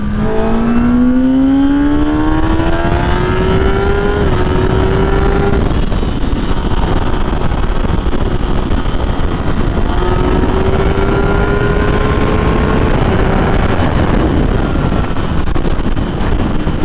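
A 2021 Kawasaki Ninja ZX-10R engine climbs steadily in pitch as it accelerates under throttle, shifts, then pulls up again through a second gear, loud and close with constant wind rush over the microphone.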